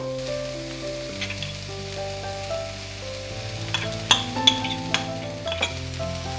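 Cabbage stir fry with freshly grated coconut being stirred in a pan, a steady soft sizzle with scattered scraping clinks of the spoon against the pan, close up and without talking.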